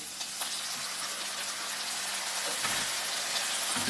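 Tomatoes added to a hot non-stick pan with turkey stock, giving a soft, steady hiss and sizzle with faint bubbling, heard quietly and alone.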